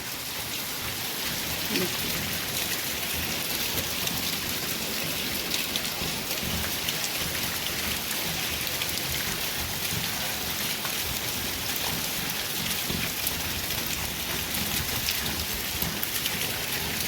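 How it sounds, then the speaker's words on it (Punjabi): Heavy monsoon-style rain falls steadily as a dense, unbroken hiss of drops on surfaces, with a faint low rumble of distant thunder underneath and no voices. "ਕਿਵੇਂ ਹਟੂਗਾ ਇੰਨਾ ਜ਼ਿਆਦਾ ਮੀਂਹ ਹੈ"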